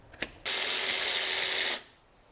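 A ratchet spinning a bolt off the alternator of a BMW M52/M54/M56 engine, a single fast buzzing burst lasting about a second after a small knock, close and loud.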